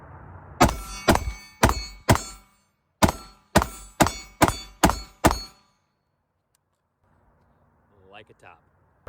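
A Bear Creek Arsenal BC-15 rifle fires about nine sharp, loud shots in two quick strings, with a short pause between them, followed by quiet and a brief voice.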